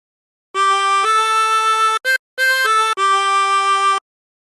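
Harmonica playing a phrase of Amazing Grace with bent notes: a few sustained reedy tones, one pitch sliding, with two brief gaps between them, clear and close with no talking.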